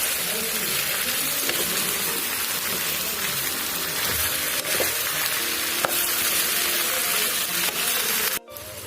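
Mango pickle mixture being stirred in a pan, giving a steady, close crackle and soft scraping throughout, with a brief drop near the end and no talk.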